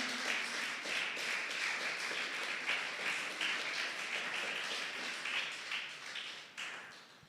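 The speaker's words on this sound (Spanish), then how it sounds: "Dale fuerte, fuerte ese aplauso." A church congregation applauds in a sustained, even wash of many hands, heard from some distance in a reverberant hall, holding steady for several seconds before tapering off near the end.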